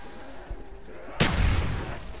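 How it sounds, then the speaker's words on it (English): In the Ascension zombies map of a video game, a sudden loud explosion bursts after a quieter stretch, its booming rumble and debris decaying over the following second. "Whoa, random explosion."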